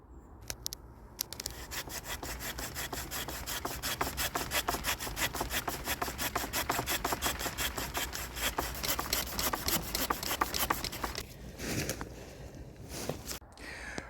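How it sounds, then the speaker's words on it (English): Steady back-and-forth strokes of a handsaw cutting through hedgerow wood, fast and rhythmic for most of the clip, close by, ending in a few rough scrapes. "that's going to be a job with a handsaw"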